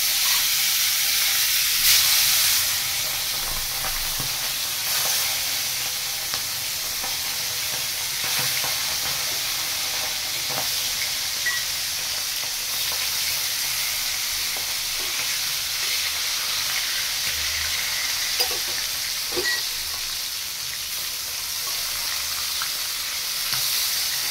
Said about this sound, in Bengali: ট্যাংরা মাছটাকে নুন হলুদ মাখিয়ে দিয়েছি, এবারে গরম তেলের মধ্যে ছেড়ে দেব।